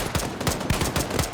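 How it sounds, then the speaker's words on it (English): Rapid machine gun fire from a Cold War era American squad fighting aliens in Xenonauts, a short burst of about seven or eight evenly spaced, punchy shots, close and alone. "Hey, get that machine gun online."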